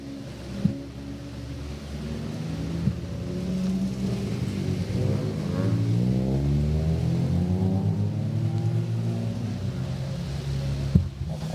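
Fiesta and Hyperdrive ST-XR racing cars pull out of the pit lane at Silverstone, engines droning and rising in pitch as several pass, a sustained loud revving rumble with a few sharp clicks.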